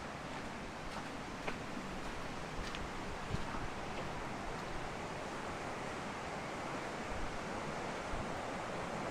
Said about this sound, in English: I can definitely hear a weir down here, and now I can see a weir down here